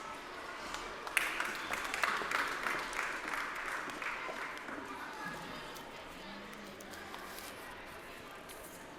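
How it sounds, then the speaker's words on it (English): Audience applause for a performing artist at a talk on creativity and innovation, a broad wash of clapping that swells early then fades toward the end, with some talk underneath. "Big applause for the lovely artist."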